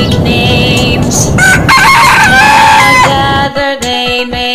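Loud rooster crows ring out over a steady backdrop of clucking hens and chickens, with several drawn-out calls rising above the flock's chatter.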